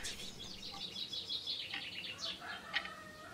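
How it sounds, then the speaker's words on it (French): Birds singing in a garden: faint, high chirps and short trilling calls drift in at a distance over a soft, hissing background, with no voices. "Au jardin, les oiseaux chantent."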